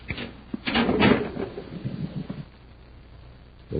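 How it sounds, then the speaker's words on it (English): A concealed door in a radio drama creaks and scrapes open in a short rumbling sequence, then falls quiet before a faint bump at the end. "There's a concealed door here."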